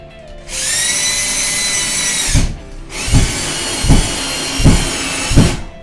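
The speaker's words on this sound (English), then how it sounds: "I'll go ahead and use the drill to get this in." A power drill whines steadily for about two seconds, pauses, then runs again with several rhythmic thumps as the screw is driven in while installing a broom holder, close and loud.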